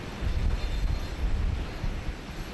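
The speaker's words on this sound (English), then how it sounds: "looks like our next arrival is the Royal Australian Air Force 737 BBJ" A Royal Australian Air Force Boeing 737 BBJ arrives at Sydney Airport, a steady, fairly distant jet rumble with a broad low roar throughout.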